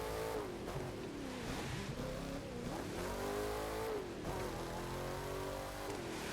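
Fast car in a racing video game driving through mountain areas, its engine droning loudly and continuously with pitch rising and falling through gear shifts and revs, with faint tire squeal.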